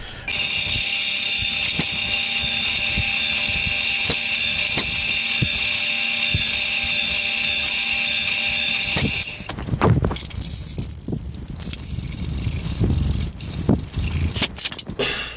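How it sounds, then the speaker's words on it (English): A scroll saw cuts through soft aluminum sheet for a homemade project box, giving a loud, steady high-pitched whine for about nine seconds before breaking into rougher, irregular scraping and rattling. "And then we'll be cutting that out on the scroll saw."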